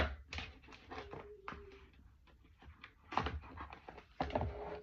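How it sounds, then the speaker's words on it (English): Close, rapid dog panting comes in quick breathy bursts, with a brief faint whimper partway through and a lull before the panting picks up again. "this fucking dog is like eating all the corners of my skirting boards and all sorts"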